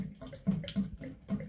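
Water pours from a working shower head over a bathtub whose faucet spout diverter seal is leaking, a close, splashy patter with uneven pulses over a brief moment.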